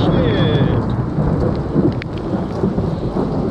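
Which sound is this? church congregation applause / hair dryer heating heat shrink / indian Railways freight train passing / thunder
thunder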